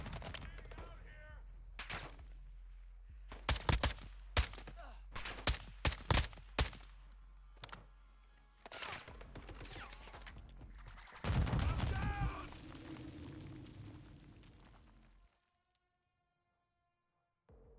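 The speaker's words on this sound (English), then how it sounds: "You'll need to work together to take out that grenade launcher." Heavy gunfire and explosions in Modern Warfare 2 Spec Ops: scattered loud shots and bursts, a booming blast around the middle, then a longer rumbling explosion before a sudden drop to near silence, with faint voices in between.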